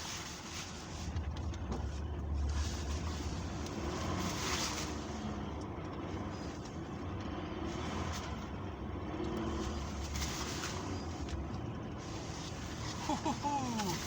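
Car driving through deep snow in a winter storm, a muffled engine drone with wheels churning and wind noise inside the cabin, steady for the whole stretch with a voice talking in places.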